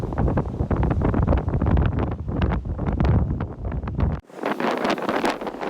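Strong storm wind buffets a harbor in Norway, roaring loud and steady with gusty swells, then shifts abruptly to a harsher, brighter rush near the end.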